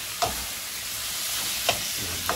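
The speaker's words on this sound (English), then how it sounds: "give it a good stir fry" A pound of large shrimp is stir-fried in a hot pan, giving a steady close sizzle broken by three sharp scraping stirs of a utensil, with no talking.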